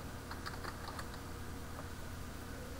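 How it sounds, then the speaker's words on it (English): Typing on a computer keyboard while searching for the terminal on Linux Ubuntu, a few quiet, close key taps over a steady background hiss. "in the search box, I'm going to type in terminal."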